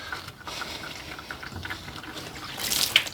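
Water drains out of a tank and spills onto the ground with a faint, steady trickle and dribble, growing a little louder and splashier near the end. No one speaks.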